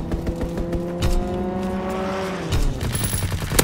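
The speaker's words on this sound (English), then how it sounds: "Fighter pilot inbound. Strafing the target." Strafing gunfire from a fighter plane in Call of Duty WW2, with rapid bursts of shots over roaring engine noise, loud and close with a few sharp cracks.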